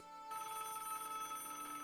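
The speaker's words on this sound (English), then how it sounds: "Georges, why are you calling me?" A telephone rings in a steady electronic tone that starts abruptly and holds, fairly faint and with no voices.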